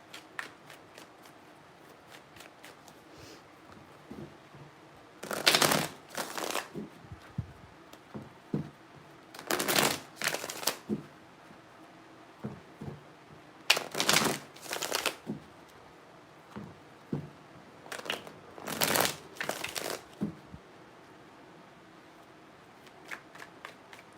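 Tarot cards are riffled and shuffled close up in several distinct bursts, with quieter card handling and soft taps between them.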